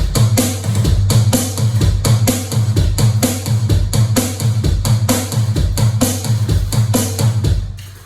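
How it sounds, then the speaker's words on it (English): A steady electronic drum kit groove with a low, booming floor tom repeating in a regular pattern alongside cymbal hits, loud and continuous with no talking. "You can even use the floor tom, which will sound like this."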